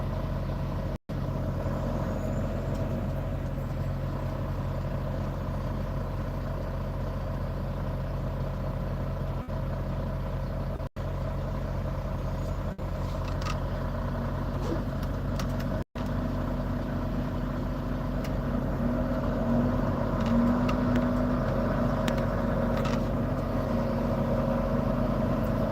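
Semi truck driving and merging in rush hour traffic, a steady low cab drone and road rumble with faint passing traffic, continuous with a few brief dropouts, no talk.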